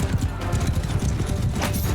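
Cavalry horses galloping in a charge in the video game Mount & Blade II: Bannerlord, a loud, dense drumming of many hooves with no pause, close up, mixed with battle noise.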